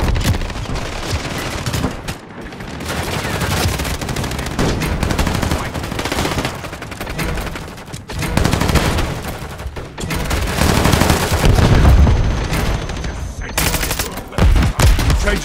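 Automatic gunfire in a Call of Duty-style shooter rattles on loud and sustained, long rapid bursts broken by brief pauses, with heavy booming impacts mixed in and occasional voices calling out beneath.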